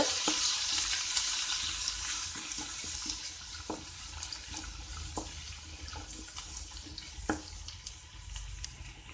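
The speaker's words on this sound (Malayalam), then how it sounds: "ഇനി ഒന്നിത് മുരിയിച്ചെടുക്കുക ഈ വെളിച്ചെണ്ണയിൽ." Ginger and garlic sauté in hot coconut oil with a continuous close sizzle, punctuated by occasional spoon clicks and stirring scrapes.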